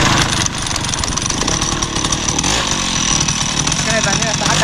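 A small two-stroke engine revs and runs steadily, a loud buzzing drone close by, with voices talking over it.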